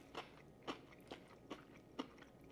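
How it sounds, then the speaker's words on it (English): Crunchy air-fried appetizers, bacon-wrapped jalapeños among them, give five evenly spaced crisp bites, close up and fairly quiet, with no voices over them. "I don't know if you can hear that crunch."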